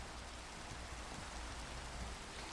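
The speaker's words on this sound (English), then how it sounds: "It's raining because it's the Mindcrack server" Steady rain in the Minecraft world of the Mindcrack server, a dense continuous hiss of falling drops that stays even and fairly soft throughout, with no talking.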